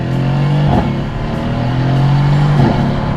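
A Mercedes C63 AMG V8 revving under paddle-shifted gear changes, loud and close, with a sustained engine drone broken by two quick shift blips.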